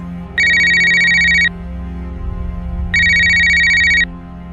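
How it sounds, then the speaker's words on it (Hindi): A mobile phone rings with an incoming call, playing a bright electronic ringtone in two loud bursts of about a second each, separated by a short pause, over a low background hum. "इतना बोलते ही उसके मोबाइल पर एक कॉल आता है।"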